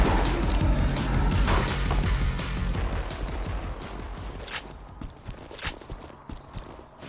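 Rapid bursts of gunfire from a gun in the game Borderlands 2, a dense volley of shots early that thins into scattered, sharper single cracks toward the end.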